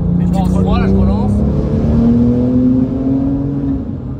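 Turbocharged Porsche with 600 hp and rear-wheel drive accelerating on the road, a loud, close engine drone rising in pitch throughout, with a voice speaking over it.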